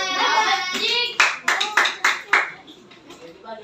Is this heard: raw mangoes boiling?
no